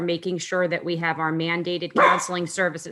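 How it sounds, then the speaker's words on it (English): A dog barks and yelps in the background during a budget workshop, a few short, muffled yaps surfacing now and then beneath steady, close talking. "Sorry about the dog in the background."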